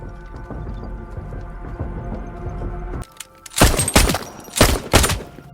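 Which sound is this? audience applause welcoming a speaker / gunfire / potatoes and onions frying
gunfire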